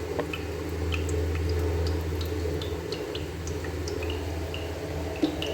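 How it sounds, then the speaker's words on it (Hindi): Water drains from mango pickle pieces set in a strainer, a soft continuous trickle with scattered faint drips and small liquid ticks throughout, steady and moderately close. "ये अचार जो है ना वो मैं इस स्ट्रेनर के अंदर डाल देती हूँ।"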